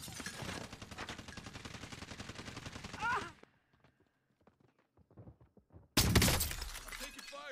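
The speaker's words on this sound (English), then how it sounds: "I'm taking fire here. Enemy fire." Enemy gunfire in the battle royale game Warzone: loud rattling automatic bursts for a few seconds, a near-silent gap with scattered faint shots, then another sudden heavy volley.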